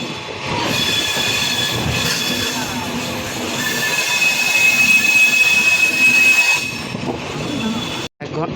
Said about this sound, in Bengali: ট্রেনটি ছেড়ে গেল চিলাহাটির উদ্দেশ্যে